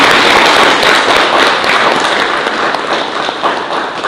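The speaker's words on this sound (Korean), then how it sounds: "박수로 받아주십시오." An audience at a history lecture claps continuously, a dense, bright wash of hand claps holding steady at close range for a few seconds with no voices over it.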